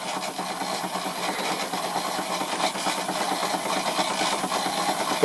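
A restored Stuart Victorian steam mill engine, mounted on a teak base and driving a Wilesco fairground model, runs continuously with a rapid, even mechanical chuffing and rubbing rhythm, close and moderately loud, no talking.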